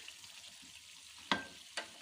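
Tomatoes for a chicken Shinwari karahi sizzle softly in the karahi over a low flame, a faint steady frying hiss broken by two sharp clicks.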